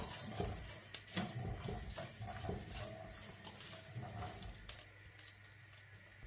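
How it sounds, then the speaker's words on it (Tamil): Black kavuni rice dry-roasting in a pan, with faint scraping stirs and light dry patter of grains shifting against the metal, quiet and irregular, no speech. "இப்போ இதை நாங்கள் நல்லா வறுத்தெடுத்து கொள்ளுவோம்."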